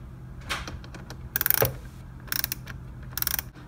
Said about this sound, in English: Remove the radiator air outlet ducting held on by four small 7mm bolts